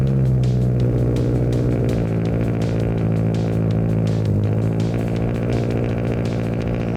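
A Subaru STi with a loud titanium single-exit Noble exhaust, no resonator, equal-length headers, a bigger turbo and downpipe rumbles heavily at close range, a dense steady burble sustained for about seven seconds.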